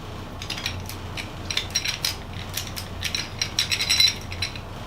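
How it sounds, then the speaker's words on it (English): An old metal door lock mechanism clicks and ratchets up close, its small latch parts rattling and snapping in a quick run of crisp metallic clicks with no talk. "It's a door lock. And it has the proper locking mechanism on it that actually works."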